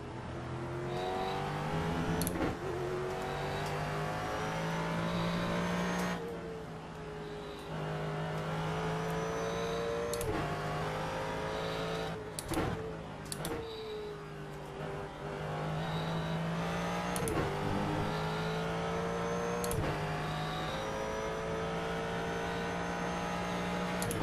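Ford GT race car engine in a sportscar race at Road America, a loud sustained roar with rising and falling revs through gear shifts and brief sharp transients, continuous over the whole stretch.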